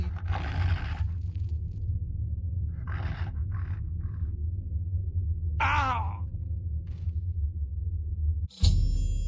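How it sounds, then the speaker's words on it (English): In Oblivion, a dying man lets out drawn-out groans and strained moans over a low steady hum, ending with a sudden thud. "he clutched his heart and fell to the ground dead"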